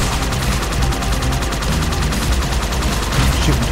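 Dense, continuous rapid gunfire from Halo 2, loud and sustained throughout with a fast rhythmic rattle and no pause.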